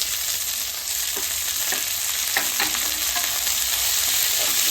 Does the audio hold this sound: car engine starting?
no